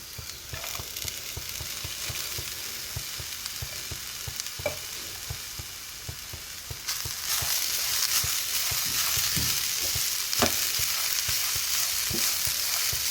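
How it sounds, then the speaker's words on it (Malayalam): Horse gram and spinach thoran is stirred in a hot pan, with a soft continuous sizzle under repeated low scraping strokes of the spoon, and the frying grows louder about halfway through. "ഇനി നമുക്കിതിലേക്ക് നമ്മളുടെ മുതിരയും കൂടി ചേർത്ത് മിക്സ് ചെയ്യാം"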